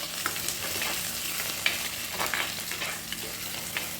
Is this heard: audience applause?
no